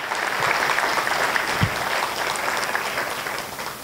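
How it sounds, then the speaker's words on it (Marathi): A church congregation clapping their hands together, a dense, steady round of applause from many people filling the room throughout, with a brief thump partway. "येशूला टाळ्या वाजवून धन्यवाद देऊया।"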